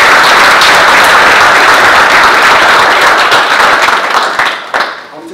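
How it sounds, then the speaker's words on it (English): Audience applause at a Navy retirement ceremony, a dense, steady wash of many hands clapping that holds loud and even before thinning out and tapering off near the end. "Can everyone give Captain Orr just a round of applause?"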